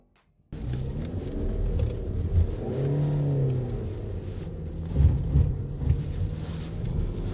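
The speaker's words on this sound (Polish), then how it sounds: "A teraz przed Wami ćwiczenia ze skrętu na płycie poślizgowej." A Skoda car drives through a turning exercise on a skid pad during an advanced safety driving course at a track in Łódź, its engine rumbling and revving steadily under wind noise, with no talking.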